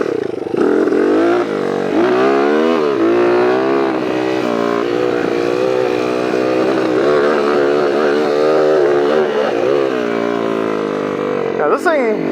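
Honda CR80 two-stroke dirt bike, a converted machine with a backfire preventer on its carburetor, runs steadily and close at a loud, buzzing pitch that rises and falls with throttle through the whole stretch, ending in a short sharp burst.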